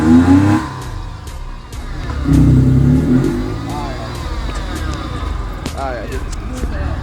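A 2011 Nissan Teana's engine revs as the gas pedal is pressed, rising and falling in a few strong pulls up close, with people talking over it.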